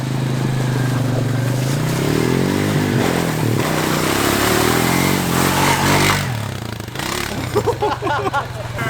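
A modified Power Wheels ride-on toy car running flat out in third gear gives a loud, steady electric motor whine with rattling and scraping. It eases off near the end as a voice is heard.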